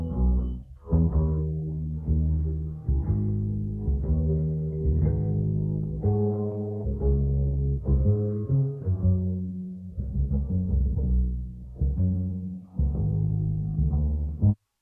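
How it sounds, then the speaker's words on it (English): A bass line isolated as a stem by Koala Sampler's stem splitter plays continuously, low and muffled, with steady repeating notes and a few brief gaps. "So let's move on to the bass."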